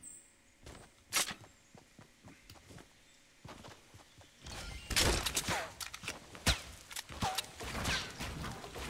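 Gunfire in the Fortnite video game crackles in scattered sharp bursts, sparse early on and then denser and louder mixed with footsteps and game effects, no talk.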